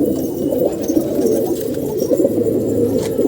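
A green pigeon coos nearby in soft, low, rolling calls that run continuously against a faint steady background.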